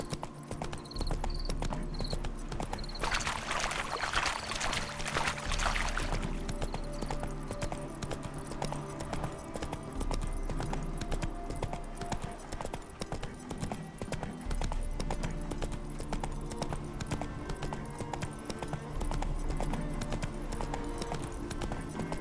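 Steady clip-clop of horse hooves at a walking pace in the video game The Witcher 3: Hearts of Stone, continuous and rhythmic, with ambient music and a brief rushing swell early on.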